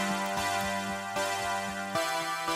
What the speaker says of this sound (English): So the chord synth sounds like this.